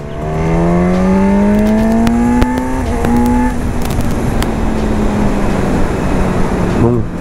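Honda Hornet 1000 motorcycle accelerating hard, its engine note rising steadily in pitch through the gears, loud and close with heavy wind rush, then easing off toward the end.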